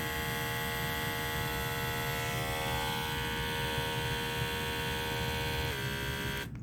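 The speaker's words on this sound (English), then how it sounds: "So here is a clipper running with a 7 wide blade" Corded XL grooming clipper with a 7 wide blade running at high speed, a loud, steady electric buzz with a strong tonal whine held continuously throughout.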